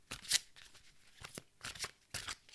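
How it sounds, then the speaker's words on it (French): Oracle cards being shuffled by hand, three or four brief soft riffling bursts with short gaps, close and quiet. "je mélange bien les cartes"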